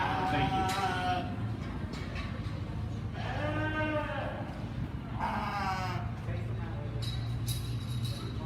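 Sheep bleat repeatedly during a sheep show at a county fair in Montgomery County, with several drawn-out, wavering calls rising over a busy arena murmur while people talk nearby.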